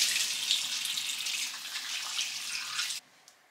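Tap water runs steadily into a bathroom sink while someone rinses their face, a bright, even hiss and splash lasting about three seconds before the flow stops, followed by a faint drip.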